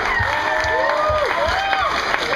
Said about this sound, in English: Let's hear for Tracy, also from Missouri.